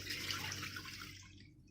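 Curdled milk is poured slowly into a cloth to make paneer at home, giving a soft, faint, continuous liquid splashing and trickling that thins out and fades toward the end.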